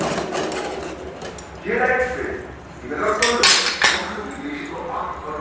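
A cooking pot is opened to check hilsa fish steaming in Bengali ilish bhapa style, with a few metallic clinks and clattering knocks of the lid and utensils over a low kitchen background.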